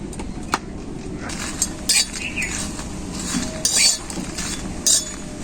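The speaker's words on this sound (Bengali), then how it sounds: "এরপর শুকনো কড়াই শুকনো লঙ্কাগুলো ভেজে নেব।" Dried red chillies are roasted in a dry karahi, with a few sharp metallic clinks of a spatula against the pan at scattered moments over a faint, steady background rustle.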